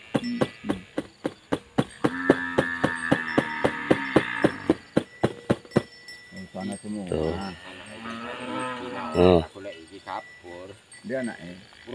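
Bali cattle being gathered by a herder let out a long, drawn-out low moo amid a series of sharp clicking knocks, followed by people talking nearby.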